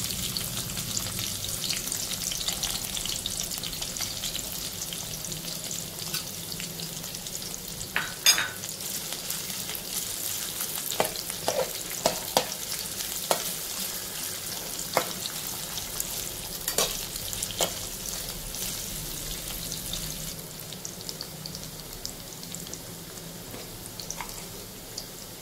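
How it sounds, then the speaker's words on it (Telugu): Onions frying in oil in a pan for an Andhra-style prawn curry with tender tamarind leaves, a steady close sizzle broken by scattered sharp clicks and scrapes from stirring, with no talking. "ఇప్పుడు ఇందులో మనం ఆనియన్స్ వేసుకొని ఆనియన్స్ని ఫ్రై చేసుకుందాం"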